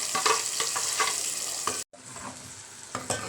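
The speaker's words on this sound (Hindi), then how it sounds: "आप देखें ये मसाला भूनने वाला है" Masala spices and onions frying in a pan, with a steady broadband sizzle and occasional stirring scrapes throughout, briefly cut off once before continuing at a slightly lower level.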